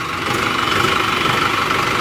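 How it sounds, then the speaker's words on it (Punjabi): An Arjun tractor's diesel engine idles close by with a steady, heavy rumble and a faint rhythmic knock, continuous and unbroken. "ਤੁਸੀਂ ਆਪੂ ਸੁਣ ਲਓ ਆਵਾਜ਼ ਅਰਜੁਨ ਦੀ ਹੈਗੀ ਆ"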